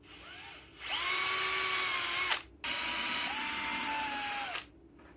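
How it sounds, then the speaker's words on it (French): Electric drill pre-drilling small screw holes for a bathroom cabinet drawer slide, two steady high whines of about one and a half and two seconds, close and fairly loud. "Je vais pré-percer un tout petit peu."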